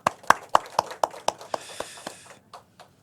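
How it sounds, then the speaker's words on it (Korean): A few hands clapping slowly in a church service, welcoming pastors: sharp, separate claps in a steady rhythm that soften and scatter into sparse, faint claps before dying out. "뜨거운 박수로 네, 맞이해 주시면 감사하겠습니다"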